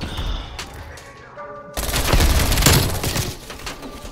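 Gunfire aimed at the player in Black Ops Cold War, a quieter stretch of scattered shots followed by a sudden loud burst of rapid sustained fire with heavy thumps, close and harsh.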